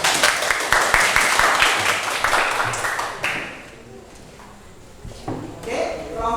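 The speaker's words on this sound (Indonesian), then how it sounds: "Ayo kita beri aplaus." A classroom claps for a group's presentation: loud, crowded applause for about three seconds that quickly dies away, followed by scattered voices and a few stray claps.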